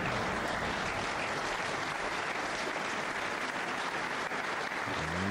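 Snooker crowd applauding after the black is potted at the 2008 World Championship at the Crucible, a steady dense wash of many hands clapping that holds evenly for several seconds with no voices.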